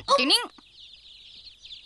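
A cartoon baby bird gives a short, shrill warbling cry, then a thin, faint high-pitched peep trails on alone.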